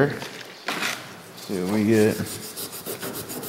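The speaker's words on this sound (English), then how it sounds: "Try a little acetone on gray Scotch-Brite here." A gray Scotch-Brite pad wet with acetone scrubs a surface in short, rasping rubbing strokes up close, with a voice talking over the scrubbing.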